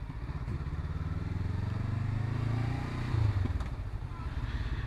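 A 2019 Honda CB500F motorcycle engine on a test ride hums steadily nearby with a low, even drone that swells slightly and then shifts pitch briefly.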